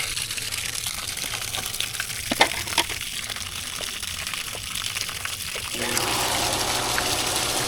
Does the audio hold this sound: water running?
yes